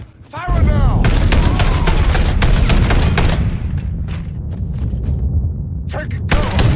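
Gunfire in the video game Mafia Definitive Edition, a dense burst of rapid shots and heavy booms, loud and close, that rattles on without pause before thinning out, with a shout near the start.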